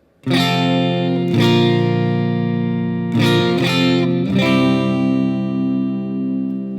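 Strummed guitar chords ring out in full, changing shape four times with sustained, slowly decaying strums between changes; no voices.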